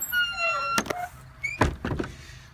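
A rabbit enclosure door moves with a squealing, creaky sweep followed by a couple of sharp knocks and rattles, close and fairly loud.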